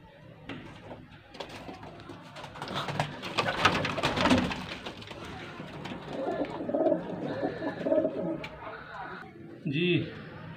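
Anmol breed pigeons coo softly in bursts with fluttery movement nearby, heard close up under someone talking.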